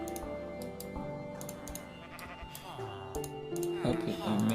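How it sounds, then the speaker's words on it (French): Sheep bleat in Minecraft amid game effects and clicking, with several wavering calls at moderate level. "Ils sont où les autres moutons? Je les entends"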